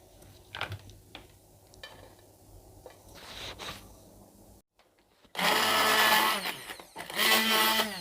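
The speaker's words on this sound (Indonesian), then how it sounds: "Untuk mempermudah kita memblendernya." A faint background hum gives way to a loud electric blender whirring in two bursts with a short pause between them, blending ingredients with added water.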